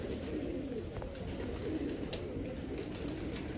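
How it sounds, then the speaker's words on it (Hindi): Golden pigeon giving low, soft cooing in a steady rumbling murmur, close by and fairly quiet, with faint chirps above it. "ये गोल्डन कबूतर है"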